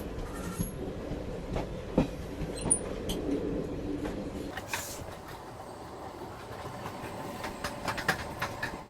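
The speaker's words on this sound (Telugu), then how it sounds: "train number 17231 Narsapur Nagarsol biweekly express" The Narsapur–Nagarsol bi-weekly express, train number 17231, heard from on board as a continuous rumble with rhythmic clickety-clack from the wheels over the rails and occasional faint squeals, steady throughout and with no speech.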